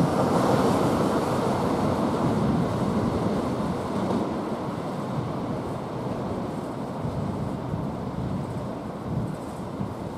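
A Eurostar class 374 train passes through Stratford International station with a loud, continuous rushing roar that fades slowly, alone and without talk.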